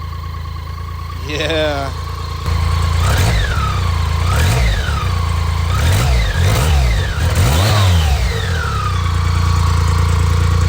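A 1986 BMW K75c motorcycle engine on a cold day, started with the choke on. It cranks, catches and settles into a steady idle, then gives several sharp revs that rise and fall, close and loud, with a brief spoken word.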